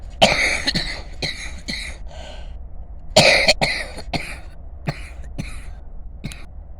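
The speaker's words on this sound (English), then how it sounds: "I had my little coughing thing here" Several dry coughs in clusters, close up, with a short pause between two bursts and a final single cough.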